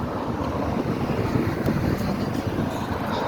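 Headwind gusting into the microphone while bicycling on Fort Myers Beach, a loud continuous rushing roar with buffeting that never lets up.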